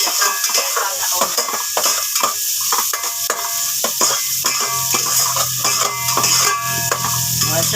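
Onions sautéing in a pan for a Filipino mung bean (mongo) dish, a steady sizzle under busy stirring and clinks of a utensil against the pan, fairly loud and close throughout.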